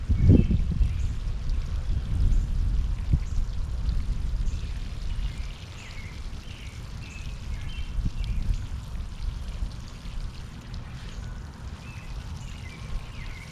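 Garden plants being watered with a hose in a suburban yard, a steady close spray and patter of water on foliage and soil, slightly louder at the start, with no talking.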